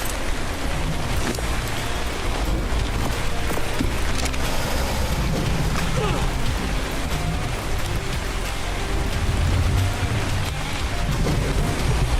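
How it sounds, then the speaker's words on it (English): Rain falling in a video game world, a dense, even hiss of downpour that continues unbroken throughout with a low rumbling undertone. "And it's raining."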